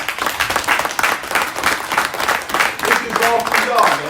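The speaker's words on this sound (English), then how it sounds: "Give yourself a round of applause, man." Loud rhythmic applause from a crowd, pulsing claps in quick bursts, with voices shouting and talking over it and a brief sung or called-out phrase near the end.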